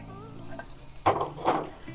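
A butter-basted beef ribeye steak sizzles on a grill, a soft steady hiss punctuated by two louder bursts of crackling as it settles, with light clinks of cookware.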